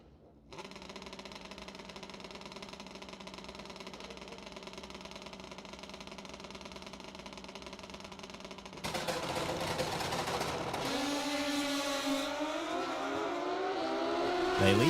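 Drag racing motorcycles at the ManCup World Finals hold a loud, steady engine drone, then blast off with a sharp, roaring surge of rising, sweeping engine pitch at moderate distance.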